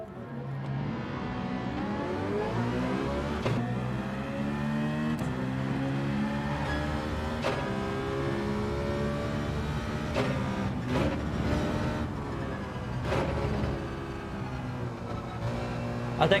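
A Citroen engine in Gran Turismo 7 drones steadily through a long run, its pitch climbing and falling through gear changes, with occasional sharp clicks over the continuous hum.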